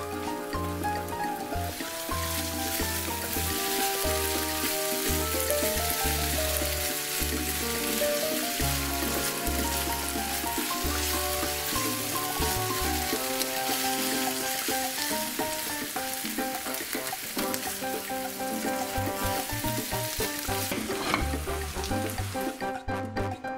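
Minced meat sizzles steadily in a hot pan, with chopped parsley stirred in while it fries; the frying hiss is continuous and fairly loud throughout, over a background of music.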